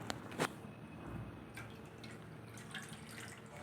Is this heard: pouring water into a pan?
yes